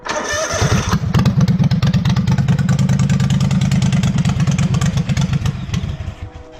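A cold V-twin engine on a Wheel Horse tractor cranks and catches, then runs loud and close with a rough, uneven pulsing idle that stumbles and lopes before trailing off.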